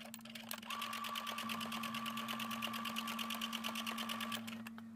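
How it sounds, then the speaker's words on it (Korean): Sewing machine stitching around the edge of a fabric beret, a fast even chatter of needle strokes running steadily for several seconds over a low motor hum, close and alone. "바느질 시작하겠습니다."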